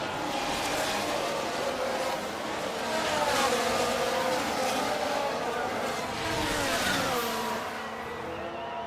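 Race cars in F1 Manager 24 roar away from the start at Miami, a dense, continuous wash of engines accelerating together with rising and shifting pitches, moderately loud, while a commentator talks over it.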